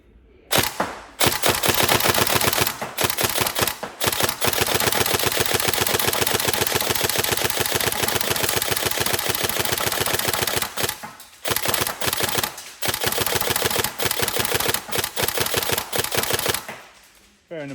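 Tokyo Marui SCAR H airsoft DMR with a 45k Ronin motor firing at 450 FPS, loud and close, with a fast, dense mechanical rattle of rapid single shots that carries on for most of the stretch, broken by a few short pauses.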